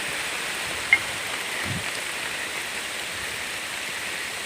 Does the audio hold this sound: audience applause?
no